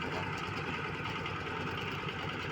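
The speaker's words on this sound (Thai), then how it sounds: "รถไถนาเดินตาม" A walk-behind tractor's engine runs steadily, a continuous busy mechanical chatter and drone with a constant loudness, heard close with no speech over it.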